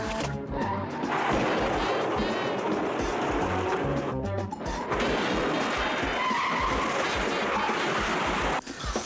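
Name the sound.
car being wrecked, tires skidding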